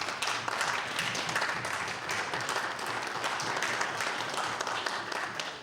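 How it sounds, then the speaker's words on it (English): Warm round of applause in a provincial House of Assembly chamber, many hands clapping steadily at moderate distance for several seconds, even and sustained without speech. "It is my hope that this Legislative Assembly will give them a warm round of applause."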